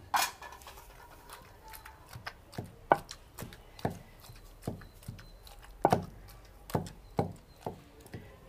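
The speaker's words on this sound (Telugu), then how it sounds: "ఇప్పుడు ఈ వేయించుకున్న ముక్కలు కూడా వేసి దంచుకున్నాము." Fried brinjal pieces and green chillies pounded for chutney, a steady run of dull thuds in an uneven rhythm, close and fairly soft with no talking.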